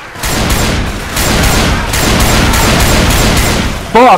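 Rapid bursts of gunfire from Left 4 Dead 2, crowded together and continuous with a few short breaks, loud and close, ending in a brief sharp squeal.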